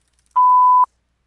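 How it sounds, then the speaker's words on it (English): A single clean voicemail answering-machine beep, one steady tone lasting about half a second, loud and close, with silence before and after. "Please leave a message after the beep."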